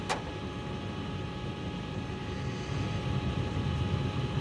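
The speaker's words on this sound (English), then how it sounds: "We try to analyze the sound of the engine." Aircraft engines droning steadily on a cockpit voice recording, a dense continuous hum with faint tonal whine, preceded by one brief click at the start.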